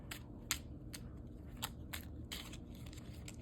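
A very small tarot deck being shuffled by hand, giving a quiet run of crisp card flicks and riffles in uneven bursts against a low steady background hum.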